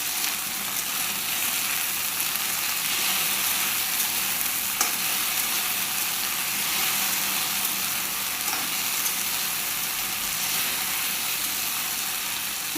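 Elephant apple pieces frying with a spoonful of salt in a pan give a steady, close, continuous sizzle that holds evenly throughout with no talking.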